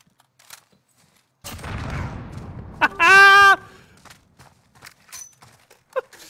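A grenade goes off in Call of Duty Warzone with a sudden loud burst that rumbles and fades over a couple of seconds, followed by a short bright electronic tone and scattered faint clicks.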